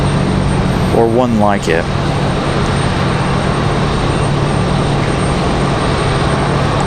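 An airplane coming in to land at Raleigh-Durham airport, arriving from Stuart, Florida, gives a loud, steady engine drone that fills the whole clip, with a person speaking briefly over it near the start.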